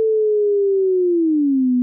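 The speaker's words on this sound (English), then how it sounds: "So this is a sine wave." A pure sine tone from a frequency shifter effect holds steady and loud, then glides slowly downward in pitch over about two seconds, alone with no other sound.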